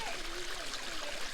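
A deep, clear farm creek, known locally as Indian Spring, flows over little waterfalls, giving a steady broadband rushing trickle close by, with a faint voice underneath.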